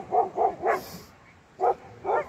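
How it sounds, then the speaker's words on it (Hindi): Dogs bark loudly at night beside a nomadic shepherds' camp in a deep Himachal forest. Five moderately near barks come in a quick run, a brief pause, then two more, with no talk. "कुत्ते भाई जोर शोर से लगे भौंक रहे ना"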